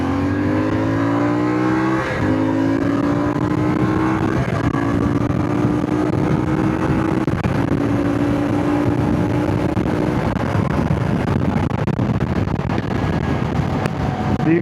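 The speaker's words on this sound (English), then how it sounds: "The acceleration feels about like you would expect out of a 450." An Ibex 450 motorcycle pulls away from a stop, its engine note climbing steadily through the gears with a brief dip at a shift, loud and close with no talking.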